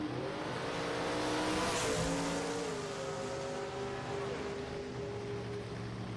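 A nitro dragster making a solo drag racing run, heard as a distant, steady engine roar with rising and falling tonal whine under a broad noisy wash, fairly faint and continuous throughout.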